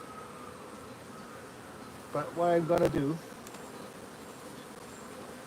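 Buckfast honey bees at an open apiary hive give a steady, close buzzing that runs throughout, with someone talking briefly over it midway.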